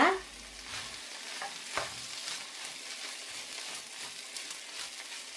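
Boiled egg noodles are tossed and mixed in a pan, making a soft continuous sizzle with light stirring scrapes and a couple of sharper taps. The sound is fairly quiet and close, with no talking.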